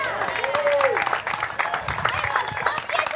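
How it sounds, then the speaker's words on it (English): Scattered clapping from a few people among chatter and voices, including a brief whistle-like tone early on, in a casual gathering where a net is being cut down. "Why are you clapping?"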